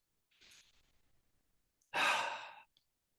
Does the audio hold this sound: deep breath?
yes